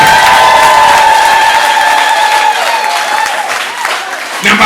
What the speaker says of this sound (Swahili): mshangilie Yesu kwa makofi na shangwe